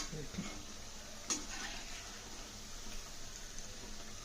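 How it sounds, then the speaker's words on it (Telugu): A spoon stirs a snack frying in a pan, with soft scraping, a faint sizzle and one sharp clink of utensil against the pan, quiet and close. "ఇప్పుడు చిన్నగా నిదానం కదిలిచ్చుదాం"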